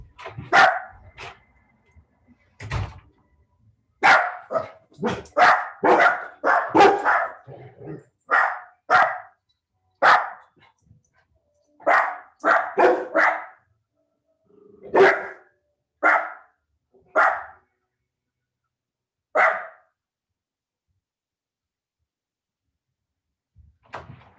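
Several dogs bark in a home during a vinyasa yoga session, sharp repeated barks in irregular bursts, some in quick clusters, with silent gaps between.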